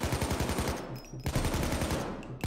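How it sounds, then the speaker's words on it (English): AK rifle gunfire in the video game Payday 2: rapid bursts of loud automatic shots, a short pause, then more sustained firing, heard alone without talk. "this game is really loud, like the gunshots"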